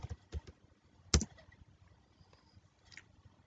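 Keys click on a computer keyboard during Python coding, with a few scattered taps and one sharper, louder keystroke in an otherwise quiet room.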